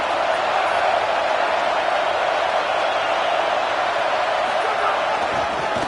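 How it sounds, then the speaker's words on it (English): Stadium crowd at a college football playoff game against Washington, a steady loud roar of cheering and noise filling the whole stretch without pause, dense and continuous from start to finish. "It's early, but this crowd is fired up. Listen to this noise here."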